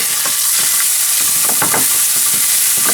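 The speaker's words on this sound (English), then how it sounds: "So I'm gonna put just a little bit, 1 tablespoon. And we're just gonna give them a quick saute." Salsa ingredients sautéing quickly in a tablespoon of oil in a pan, a loud continuous sizzle broken by a few clicks and scrapes of stirring, with nobody talking.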